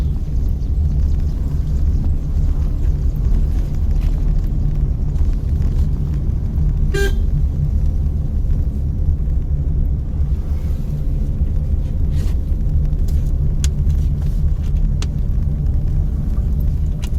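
A car climbing a hill in gear, its engine giving a steady low rumble that holds throughout, with a brief horn toot partway through and faint traffic noise around it.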